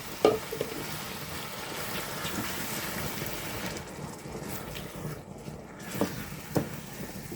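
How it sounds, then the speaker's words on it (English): Blended vegetables hit a frying egg sauce in a pan, giving a steady broadband sizzle with a few stirring knocks and scrapes; close and moderately loud throughout, with no talking. "It's been 7 minutes and I'm adding my vegetables that I blended."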